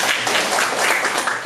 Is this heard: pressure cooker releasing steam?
no